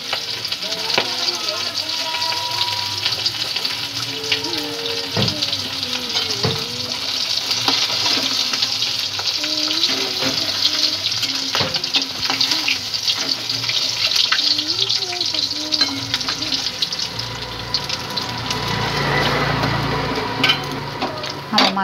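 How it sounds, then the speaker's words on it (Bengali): A katla fish head fries in hot oil with a constant close sizzle and bubbling crackle, broken by occasional utensil knocks and stirring, while a voice speaks faintly under it. "এত ফুটছে কাতলা কাতলা মাছের মাথাও"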